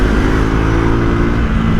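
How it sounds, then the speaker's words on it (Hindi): A Triumph Tracker 400 motorcycle engine runs loud and close, a dense steady roar with a slight rise in revs and no voices over it. "बटर स्मूथ इंजन है"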